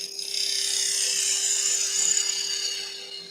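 A wooden pencil pot spins on a wood lathe while a tenon is cut for chuck jaws, giving a steady high whirring hiss with a constant hum beneath it throughout.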